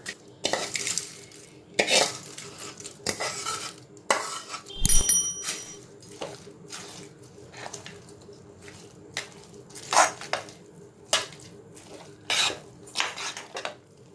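Ven pongal with pepper, cumin and lentils is stirred in a pot, a metal spoon scraping and clinking against the vessel in repeated irregular strokes, close and fairly loud, with soft wet squelches between.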